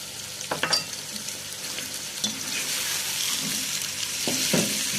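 Chicken karahi sizzles and fries steadily in a pan as chili powder, crushed red chili, salt and tomatoes are stirred in, with scraping spoon clatters near the start and end over a continuous hiss.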